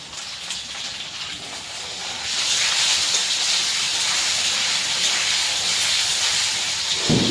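Potatoes fry in a pan with a steady, broad sizzling hiss that grows noticeably louder partway through and then holds, with no talking.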